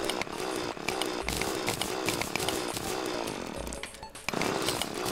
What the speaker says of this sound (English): we can start mining this cobalt ore